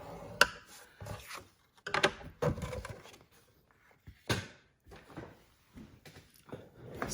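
Cardstock being scored on a scoring board for a gift card holder, giving a series of close, dry rubbing and scraping strokes with short sharp taps between them, in a quiet room with no voices.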